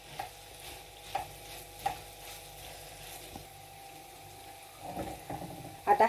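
Samosa filling gets stirred and combined in a pan, a soft low sizzle with occasional spoon taps and scrapes, quiet and close, rising into a few louder stirring bumps at the end.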